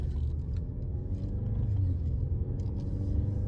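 Low, steady car engine rumble, a continuous close drone with faint clicks and rattles above it and no talking.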